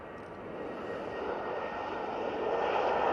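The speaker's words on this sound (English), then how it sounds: "the third of the three Ryanairs starting off the show is this 737-800 off to Belfast." A Ryanair Boeing 737-800 jet bound for Belfast takes off at Manchester Airport, its engine roar a steady, broad rumble that grows gradually louder throughout, heard from the airfield with no talk.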